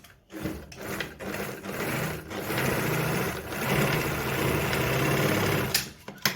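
A Jones model 461 sewing machine runs a straight stitch on fabric at a long stitch length, giving a close, steady mechanical whir with rapid clicking that starts and stops in short bursts, with no speech.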